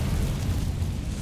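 An Incendio fire spell cast in Hogwarts Legacy, a short, loud, roaring burst of flame with a heavy low rumble that holds steady for about a second, with no talk over it.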